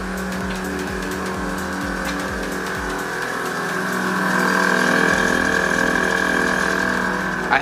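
Air ride suspension compressors on an AccuAir setup running with a steady mechanical buzz and rapid chattering pulses at first, then a continuous whine that swells louder midway, close and without talk.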